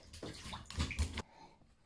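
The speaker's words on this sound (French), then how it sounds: "T'aimes pas avoir une douche, t'aimes pas être mouillée toi, hein?" Shower water runs while a dog is being washed, a faint splashing stream lasting about a second before it cuts off.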